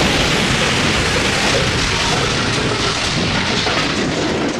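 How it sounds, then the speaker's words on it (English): A large explosion from the 1986 film Chopping Mall as an entire store blows up, a dense, loud roaring wash of blast noise sustained throughout without a clear single onset. "high explosion, the entire store just blows up, and it's honestly a great explosion shot"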